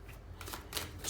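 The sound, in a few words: shuffling tarot cards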